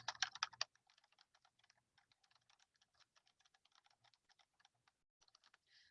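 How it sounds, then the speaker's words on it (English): Keys on a computer keyboard are typed in a quick, uneven run of light clicks while text goes into Google Docs, with a louder burst at the start and faint, close taps after, no voices. "So now I'm going to type in"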